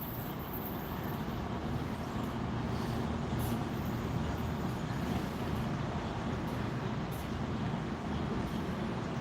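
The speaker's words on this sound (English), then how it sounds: "Today it sounded like they were running freight on the line though." A freight train passing on nearby tracks, heard as a steady, dense rumble and roar that holds constant throughout with no pauses or voices.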